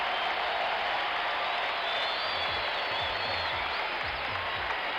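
A packed basketball arena crowd roars during Game 6 of the 1977 NBA Finals, 76ers at Trail Blazers in Portland, a loud, dense, sustained cheer with whistles that holds steady throughout.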